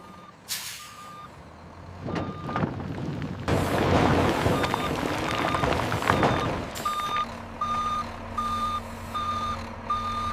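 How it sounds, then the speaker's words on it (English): A truck reverses with repeating beeps and air-brake hisses, then dumps a heavy load of cassava roots into an intake pit at a processing factory with a loud rumbling slide. "The raw material is dumped into the intake pit."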